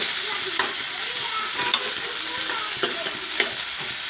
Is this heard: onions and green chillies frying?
yes